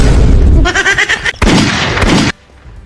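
A gun fires in a loud, harsh, crackling blast that runs for a couple of seconds with ragged surges, then cuts off abruptly into near silence.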